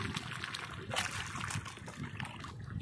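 A river current flows past, a steady close-up gurgle and trickle of water with light sloshing throughout.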